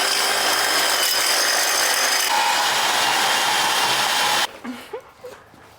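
A power tool cuts metal parts for a go-kart being built outdoors in a parking lot, a loud, steady grinding whine running continuously for over four seconds before cutting off abruptly, leaving faint clatter.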